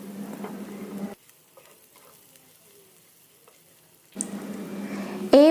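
Green chili and onion sizzle in a pan with turmeric, a close steady frying hiss that drops out for about three seconds and then returns, ending in a brief sharp scrape.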